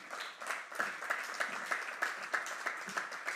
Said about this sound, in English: And an applause for her,